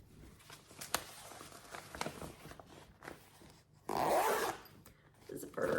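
A zipper on a cross-stitch project bag rasps open or shut in one loud, quick pull near the end, after a stretch of quieter handling and rustling.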